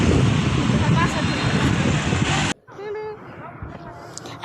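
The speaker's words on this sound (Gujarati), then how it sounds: "પવન આવે છે મસ્ત।" Wind buffets the microphone in a loud, roaring rush outdoors for about half the time, then drops away abruptly to quieter surroundings with faint voices.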